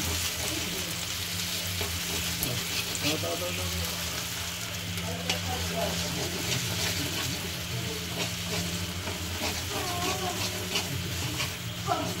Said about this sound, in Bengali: মশলাটাকে একটু ভেজে নেওয়া হবে তার যাতে কাঁচা গন্ধটা চলে যায়। মিডিয়াম ফ্লেমে।